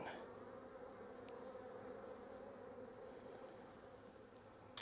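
Honeybees hum in a faint, steady drone around an open hive frame full of brood, with a brief sharp knock at the very end.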